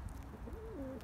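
A single soft, low coo from a Turkish tumbler pigeon, brief and fairly close, over faint background noise.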